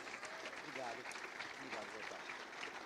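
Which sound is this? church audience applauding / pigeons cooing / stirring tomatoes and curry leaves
church audience applauding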